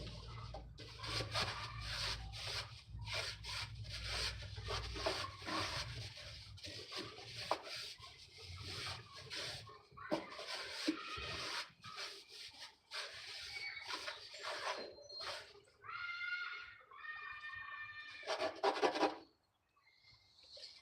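Scrubbing out a filthy oil pan from a VW VR6 engine during a teardown, a steady rasping scrub of brush strokes repeating close up, with a few sharper squeaky strokes near the end.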